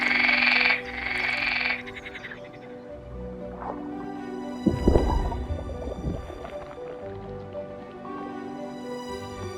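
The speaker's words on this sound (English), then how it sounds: "But the frogs themselves are scarcely harmless." Frogs croak among river water meadows, a few short throaty calls scattered over a quiet background with faint watery drips and gurgles, fairly close and with no voices.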